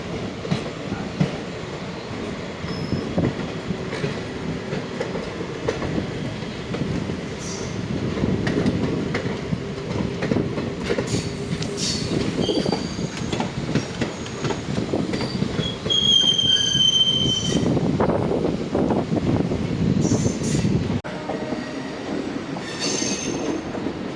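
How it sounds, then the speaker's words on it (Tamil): A MEMU passenger train entering Tiruchirappalli station, heard from on board, gives a continuous rumble of wheels on track with intermittent high metallic squeals from the wheels. "சிக்னல் கிளியரன்ஸ் கொடுத்து திருச்சி ஸ்டேஷனுக்குள்ளே போயிட்டுருக்கோம்."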